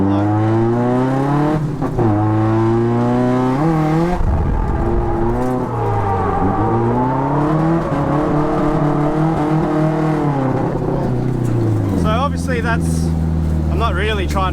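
A car drifts through a corner using a Scandinavian flick, its engine revving loudly and continuously, pitch sweeping up and down as the throttle rises and falls, then settling into a steady high drone.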